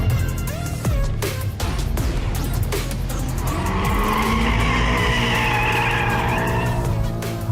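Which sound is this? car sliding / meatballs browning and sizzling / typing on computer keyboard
car sliding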